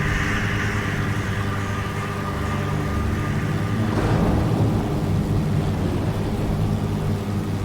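Thunderstorm ambience in the video game Jenny LeClue, with steady rain and a continuous low rumble that swells into a thunder roll near the middle, loud and unbroken throughout.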